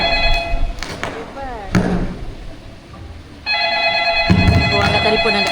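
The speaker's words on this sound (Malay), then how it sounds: "Oh, angkat telefon." A telephone rings in a home in two bursts of bright, repeated electronic trilling, with thumps and people talking in between.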